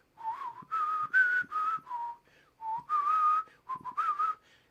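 A person whistles a melody in clear, bright phrases of sustained tones, alone and close, with short breaths between the phrases and no talking.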